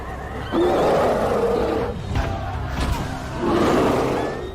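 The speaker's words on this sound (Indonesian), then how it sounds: "tiba-tiba badai datang bersamaan dengan beruang raksasa milik Nestor" A giant bear belonging to a warrior named Nestor roars amid a storm in a film battle scene, with long, loud, low growling roars at the start and end of the clip and heavy thuds in between.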